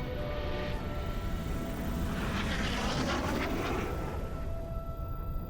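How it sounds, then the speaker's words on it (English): Loud, continuous roar of helicopters flying overhead in the Crysis video game, a dense droning rumble that swells and passes with a sweeping, Doppler-like shift in the middle. "Not just choppers overhead."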